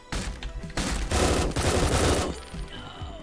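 Rapid bursts of automatic gunfire in the pixel-art SWAT game Door Kickers Action Squad, loud dense fusillades lasting about two seconds and then trailing off into quieter game sound.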